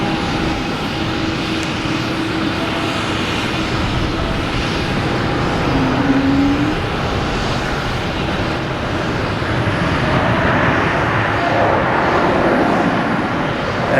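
A JetBlue Airbus A220 jet from JFK roars steadily at Boston Logan Airport, a continuous broad engine rumble holding at close range throughout with no voices.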